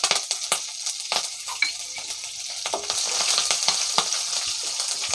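Curry leaves, mint and chopped green chillies fry in hot oil in a pan, a close, steady crackling sizzle broken by sharp spatters and scraping stirs, with no talk.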